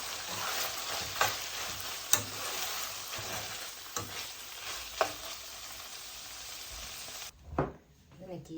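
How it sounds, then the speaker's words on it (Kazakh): Minced meat with tomato paste fries in a pan for an eggplant dish, with a steady, close sizzle and periodic sharp utensil scrapes from stirring, fading to quiet near the end. "Енді жақсылап сосын тағы ары қарай қуырып аламыз."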